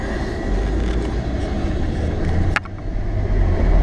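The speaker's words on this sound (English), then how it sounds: "there was just a super loud train there" A loud, steady rumble of a passing train near a bike stage race fills the whole clip, with a sharp metallic screech partway through and no talking.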